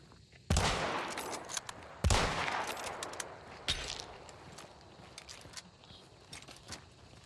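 Gunfire from two enemy teams in Hunt Showdown, heavy shots and volleys from two angles, three loud sharp bursts with echoing decay, then scattered quieter shots trailing off.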